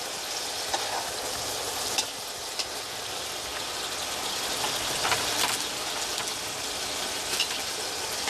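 Sausages frying in a pan while making cassoulet, a steady close sizzle with scattered crackles and occasional stirring clinks, no talk.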